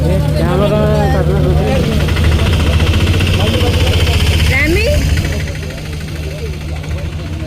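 A boat engine idles with a steady low drone as the boat slowly comes in, heard under excited voices talking, then fading a little toward the end.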